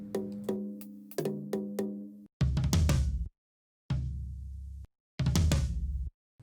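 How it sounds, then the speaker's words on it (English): Several resonant tom drum hits in short bursts, close and punchy, building in a quick lead-up pattern with brief pauses between groups. "So if somebody was playing this tom, it would sound something like this."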